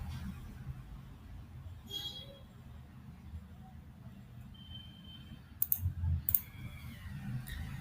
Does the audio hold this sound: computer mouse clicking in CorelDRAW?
yes